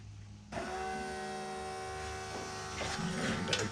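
A Mercury Grand Marquis with an LS 4.8 V8 comes to life on a cold start after repairs. It begins abruptly with a steady, buzzing mechanical drone that holds close and fairly loud, then rises slightly near the end.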